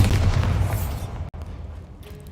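A Bombarda blasting spell in the Hogwarts Legacy video game erupts as a single heavy, booming explosion that hits hard at once and rumbles away within about a second, followed by quieter debris-like noise.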